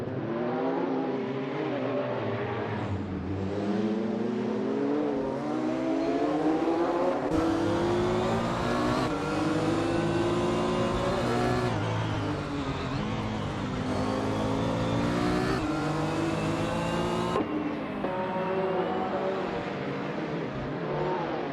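Race cars in an AI racing video game, among them a 1996 Porsche 911 GT1, roar continuously with layered engine tones rising and shifting as several cars pass, loud and steady with no talk.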